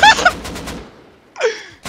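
Gunfire in the survival game Rust: a quick burst of several loud shots at the start, then a short gap before another sharp report near the end, with no speech over it.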